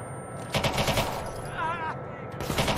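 Rapid bursts of gunfire in Watch Dogs 2, loud and dense, with a brief high tonal warble in the middle and no clear talk.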